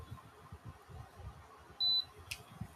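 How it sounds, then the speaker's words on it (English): A short, steady electronic beep sounds once near the middle, clear above a low, crackly background murmur. "it's beeping at me"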